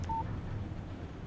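A phone in Alan Wake gives one short, clean electronic beep as a text message alert, brief and soft against a quiet background.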